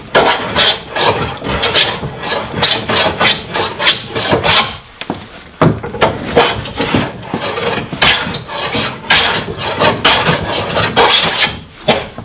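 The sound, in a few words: hand plane (trying plane) cutting wood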